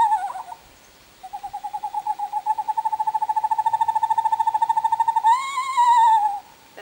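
An eastern screech owl gives a long, whinnying trill of rapid pulsing notes that runs steadily, then rises in pitch and fades, heard loud and close with no talk.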